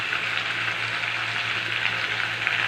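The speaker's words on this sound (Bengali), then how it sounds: "এবার মিশ্রণগুলিকে ভালো করে ভেজে নেব" Potato, tomato and spice mixture with ginger-garlic paste, green chilli, turmeric, cumin and coriander powder frying in oil in a pan, a steady close sizzle with no pauses and no voices.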